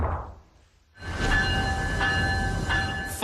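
Amtrak's new Acela train rumbles past at speed, a loud continuous roar of wheels and rail noise with steady whining tones, following a brief quieter moment.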